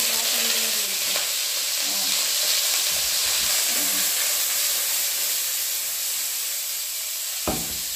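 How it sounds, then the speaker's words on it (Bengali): Butter sizzles in a pan as broccoli fries for a heavy cream broccoli dish, a steady close hiss with faint crackles and a single sharp clink near the end. "এখানে হচ্ছে আর একটু বাটার দিয়ে দিচ্ছে। এটা দিয়ে হচ্ছে ব্রকলি ভাজার জন্য।"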